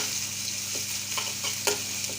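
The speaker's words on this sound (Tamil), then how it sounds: "போட்டு ஒரு வதக்கிட்டு" Food sizzles steadily in a hot pan as fennel seeds and garlic are sautéed for paneer poriyal, with occasional soft scraping stirs over a constant frying hiss.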